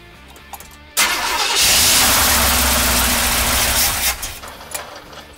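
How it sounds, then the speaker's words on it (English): A 1979 Chevrolet Camaro with a carburetor fires up after a quiet moment. The engine catches with a sudden loud burst, runs roughly at a strong idle for about three seconds, then drops away. "Fired up and it sounded okay."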